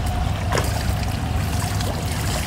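Water splashes and churns steadily from freestyle swimming in a pool, a continuous close wash of sloshing with no voices.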